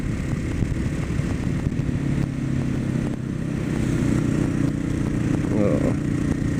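A Suzuki DR650 motorcycle with a swapped 14-tooth front sprocket rides along a road, its engine droning steadily and close over constant wind rumble.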